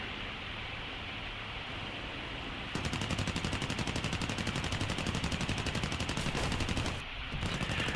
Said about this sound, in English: The stream of bullets.